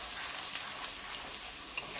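Onion paste frying in hot oil with garam masala, a soft steady sizzle with faint crackles and occasional stirring scrapes, fairly quiet and close, no talking.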